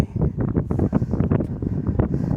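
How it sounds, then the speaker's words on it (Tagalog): Strong outdoor wind buffets the microphone in irregular, rumbling gusts that fill the clip with continuous low roaring bursts. "Ang hangin dito."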